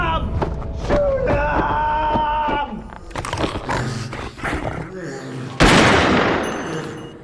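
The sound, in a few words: gunfire from soldiers shooting at a monster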